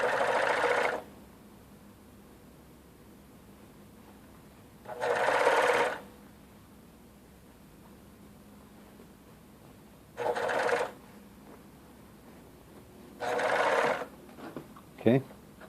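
A portable blindstitch sewing machine stitches a double-fold hem in four short bursts of steady mechanical whirring separated by long quiet pauses, close and fairly loud, with a small rattle at the end.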